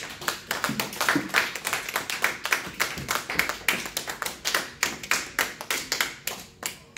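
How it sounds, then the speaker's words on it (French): A church congregation applauding during a Pentecostal-style worship service: steady rhythmic clapping in a dense, fairly loud burst throughout, with no speech over it. "on acclame pour le Seigneur bien-aimé"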